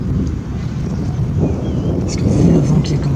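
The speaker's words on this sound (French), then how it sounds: "Parce que vu le vent qui commence à se lever." Rising wind buffets the microphone outdoors in Sallanches ahead of a violent thunderstorm, a loud continuous low roar that swells slightly toward the end, with a faint distant rumble underneath.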